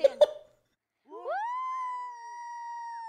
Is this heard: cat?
yes